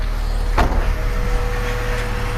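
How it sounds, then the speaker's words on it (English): A car engine idles steadily with a low, even hum, broken by one brief clunk partway through; no one speaks. "Sound like a healthy car."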